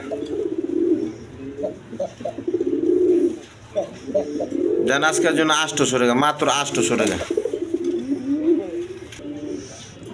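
Rajgolla pigeons, a pair of mixed-colour birds, coo softly in the background while someone talks nearly throughout, with a denser, louder stretch of sound in the middle.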